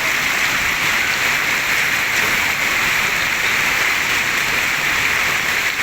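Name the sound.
heavy rain pouring down during a hailstorm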